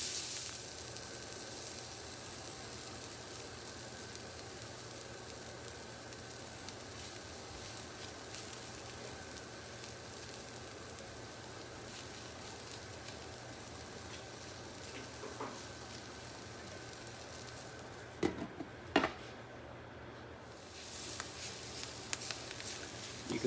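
Brussels sprouts sizzling and charring in a hot pan, a steady, quiet hiss with faint crackles that continues evenly throughout, joined near the end by a few brief clicks and knocks.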